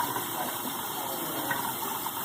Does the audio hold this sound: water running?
yes